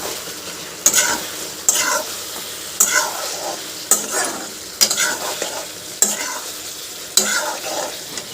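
Garlic and ginger paste sizzling in hot oil in a pan for mutton pulao, stirred in repeated sharp scraping strokes about once a second over a steady frying hiss, close and without voices.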